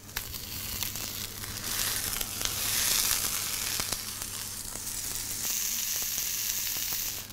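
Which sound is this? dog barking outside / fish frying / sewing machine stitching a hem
fish frying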